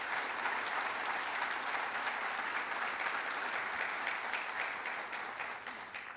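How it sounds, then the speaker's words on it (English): Sustained applause from a university lecture audience, a dense even wash of clapping that holds steady for several seconds before starting to taper. "Let's give our K-State folks a big round of applause."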